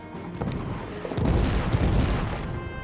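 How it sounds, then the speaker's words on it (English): Artillery fire in the trench warfare game All Quiet in the Trenches comes as a loud, deep rumbling boom that swells after a first distant thud and rolls on for a couple of seconds. "And we're under artillery fire."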